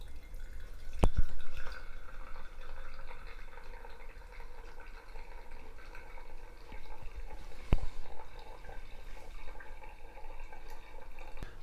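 Freshly brewed coffee drips quietly and steadily into a cup, a faint patter that continues throughout, broken by two sharp clicks.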